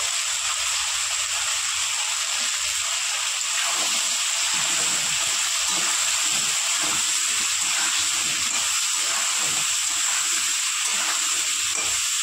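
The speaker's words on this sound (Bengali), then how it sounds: "এবার আলু ভাজার জন্য সামান্য পরিমাণ দিয়ে দেবো একটু হলুদ" Potatoes fry in a pan of oil with a little turmeric and salt, producing a constant, loud sizzle and steamy hiss that runs evenly from start to finish.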